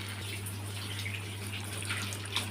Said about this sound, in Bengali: এবার গরম জল করে রেখেছি দিয়ে দেবো